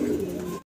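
A young pigeon chick gives a brief, close, soft calling note lasting under a second, cut off sharply.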